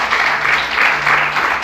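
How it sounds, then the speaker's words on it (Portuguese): A church congregation applauding, a dense burst of loud clapping from many hands that holds steady for a moment. "Vamos aplaudir Jesus bem forte,"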